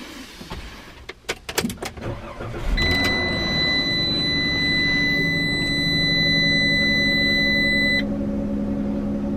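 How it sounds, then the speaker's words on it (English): Clicks and clunks, then an engine cranks and catches, settling into a steady idle with a high whine running for several seconds. "I'm going to start the engine now."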